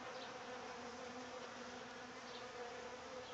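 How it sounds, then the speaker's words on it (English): Honeybees hum in a dense, continuous buzz at a hive entrance as they come and go, steady and fairly quiet, with individual bees flying close past now and then. "if you can see the bees coming and going?"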